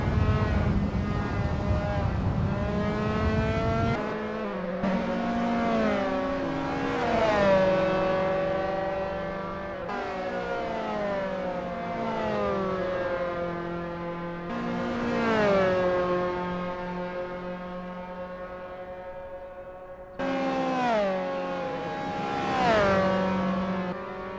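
Dallara F317 race car engines in Assetto Corsa at Tor Poznań, rising and falling in repeated revving sweeps with strong harmonic whine, loud and close, alone without talk.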